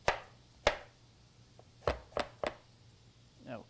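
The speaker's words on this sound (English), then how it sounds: "If a little piece gets away from you, just chop right through it" A knife chopping pork finely on a cutting board: six crisp, separate knocks at an irregular pace, close and clear over a faint steady hum, with no talking.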